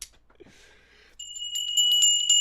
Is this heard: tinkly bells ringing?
yes